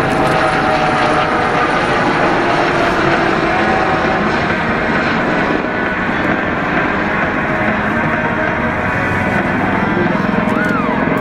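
Kawasaki OH-1 military helicopter on a training flight demonstration at an air show, flying a right climbing turn and diving to build speed; a loud, steady rotor and turbine roar continues without a break.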